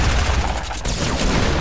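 Sustained gunfire from players in a shooter video game, a loud, continuous burst of rapid shots with no gaps, heard up close.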